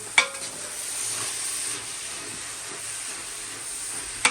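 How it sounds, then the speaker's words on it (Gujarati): Grated carrots for a large four-kilo batch of carrot halwa roast and sizzle in a pan over medium flame, a steady close frying hiss with soft stirring scrapes and a couple of sharp clinks at the start and end. "ગાજરની બધી ગાજરની છીણ એડ કરી દીધી છે"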